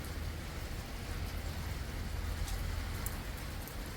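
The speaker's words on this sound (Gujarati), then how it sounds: "વરસાદ પાસ ચાલુ થઈ ગયો છે" Steady, dense rain pouring down, a constant close hiss with a low rumble underneath and no voices.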